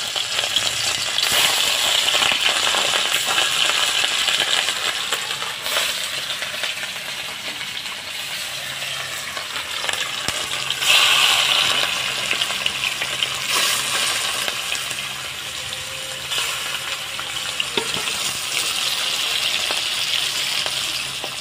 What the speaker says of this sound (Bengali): বন্ধুরা, তেল গরম হয়ে গেছে। এখন মাছগুলো সুন্দর করে ভেজে নেব।